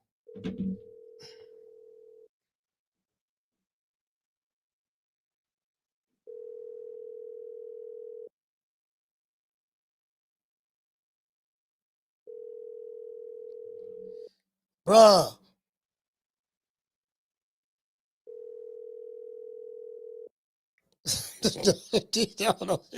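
Telephone ringback tone while placing a call, four evenly spaced steady beeps about four seconds apart, with a brief sigh-like word and a cough-like burst and some muttering between and after the tones.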